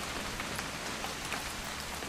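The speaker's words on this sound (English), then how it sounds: "It's gonna rain the whole weekend" Steady rain patters down across a surface in What Remains of Edith Finch, a dense even hiss with scattered drop ticks, constant and moderately soft throughout.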